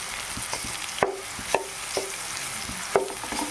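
Ginger and garlic sizzle in a pan for mutton keema, a steady frying hiss broken by several clinking stirs of a spoon against the pan, with no talking.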